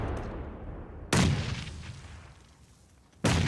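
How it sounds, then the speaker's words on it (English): Grenades explode during a squad match in PUBG, an NA FPP esports league game: two sudden loud broadband blasts, one about a second in and another near the end, each trailing off into a rumbling decay. "Nades are coming in on Theros."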